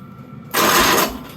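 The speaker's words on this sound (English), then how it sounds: "Let's see if this cranks it over now." A Wheel Horse 520H garden tractor engine that has sat unused for years cranks over on its starter with a charger hooked up, a loud, rapid mechanical churning that begins abruptly and runs under a second.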